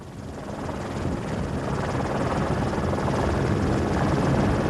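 A helicopter in flight gives a continuous, loud rotor and engine roar that builds slightly and holds steady throughout.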